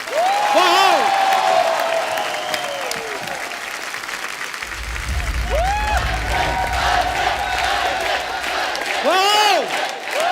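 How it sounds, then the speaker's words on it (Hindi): A studio audience at The Kapil Sharma Show applauds and cheers for Ajay Devgn's entry, with loud sustained clapping, whoops and shouts. A burst of music-like low rumble joins midway, and voices call out above the crowd throughout. "एक बार जोरदार तालियां अजय सर के लिए"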